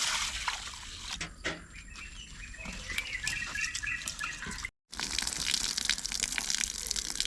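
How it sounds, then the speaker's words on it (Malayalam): Ration rice being washed in water, with steady splashing and sloshing throughout, close and moderately loud, broken by a brief silent gap near the end; faint bird calls sound in the background. "നമ്മൾ റേഷൻ അരി നന്നായിട്ട് കഴുകി എടുത്തിട്ടുണ്ട്."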